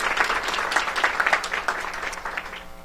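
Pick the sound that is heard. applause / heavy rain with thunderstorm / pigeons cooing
applause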